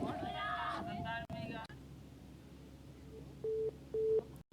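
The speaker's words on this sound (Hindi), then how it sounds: "अभिषेक, आप हैं क्या फोन लाइन पर?" After a brief stretch of talk and a short click, two short electronic busy tones sound on a dropped phone line during a news broadcast, evenly spaced, clear against a quiet hiss.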